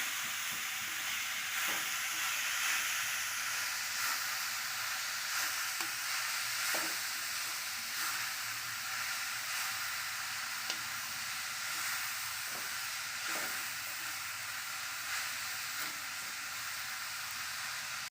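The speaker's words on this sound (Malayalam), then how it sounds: "പപ്പായ ഇട്ട് കൊടുക്കുക നന്നായിട്ടൊന്ന് ഇളക്കി കൊടുക്കാം" Papaya for thoran stirred in a hot pan, a continuous soft frying hiss with faint periodic scrapes of the spoon running throughout, quiet and close, no speech.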